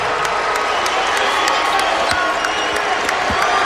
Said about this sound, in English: The crowd has gotten more and more into it.